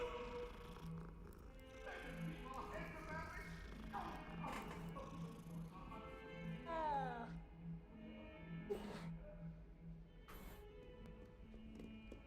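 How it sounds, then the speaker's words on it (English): Cat meowing in Hogwarts Legacy: a few short, rising-and-falling mews with some purring, set over a steady hum of game ambience and scattered light footsteps, with a voice talking at moments. "Another cat."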